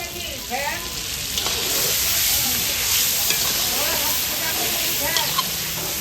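A large five-kilogram batch of kala bhuna meat fries loudly in a big pan, a dense, continuous sizzle and hiss with occasional stirring scrapes and faint voices in the background.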